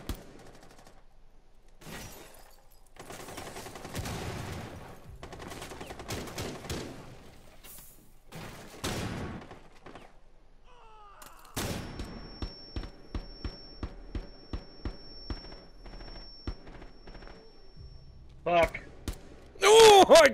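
Shooter video game gunfire, scattered sharp shots early, then a rapid series of evenly spaced cracks in the middle and a few heavy bursts at the end, mixed with talking.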